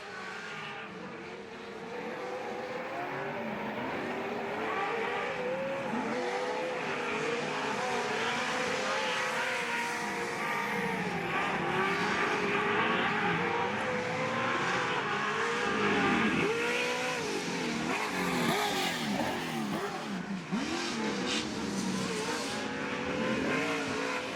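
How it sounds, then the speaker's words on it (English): Pro 4 off-road race trucks roar down the front straightaway at a short-course track in Sturgis, engines revving and shifting in overlapping waves, loud and continuous with no talking. "let's just kick back and listen to these Pro 4s"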